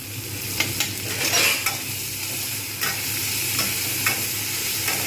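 Ginger-garlic paste fries and is stirred in a pan, with a steady close sizzle broken by scraping spoon strokes.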